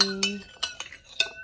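A spoon stirs sugar and salt into lukewarm water in a vessel for puri dough. It gives four or five quick, bright metallic clinks in under two seconds, close and fairly clear.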